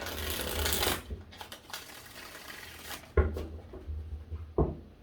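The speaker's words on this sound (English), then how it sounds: "let's get 3 shuffles here" Cards are shuffled in a few riffling bursts with soft taps and thumps between them, close by and fairly quiet.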